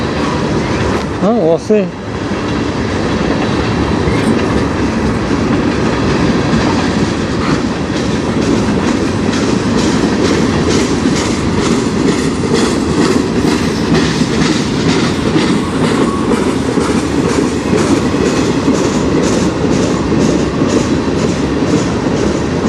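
A CN freight train rolls past on the Strathroy Subdivision in Ontario, a loud continuous rumble with steady clickety-clack of wheels over rail joints, close and sustained throughout, with a brief spoken remark near the start.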